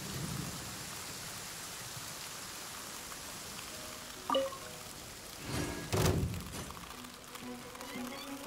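Steady rain hisses throughout in the video game Genshin Impact, broken by a couple of low thunder rumbles midway, with faint thuds and clanks in the background.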